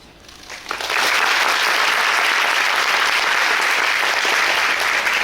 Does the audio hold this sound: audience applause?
yes